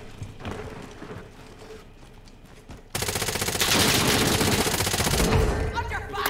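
Gunfire in the video game Call of Duty Warzone: scattered shots at first, then a loud, sustained burst of rapid automatic fire crackling densely for several seconds, with a voice speaking briefly.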